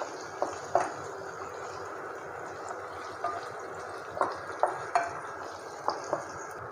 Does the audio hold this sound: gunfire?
no